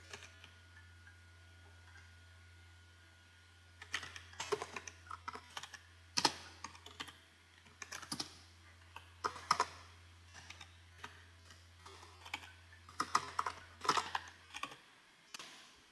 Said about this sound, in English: Man, I'm not good at typing prompts,